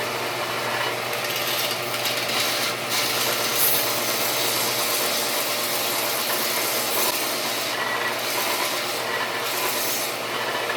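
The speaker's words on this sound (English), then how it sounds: "I'm just going to turn the machine on, and all I'm going to do is just lightly spin these" A sanding or buffing machine runs steadily while wooden wheels for a toy pickup truck are lightly spun against it to remove small burrs, giving a continuous close rubbing, whirring drone throughout.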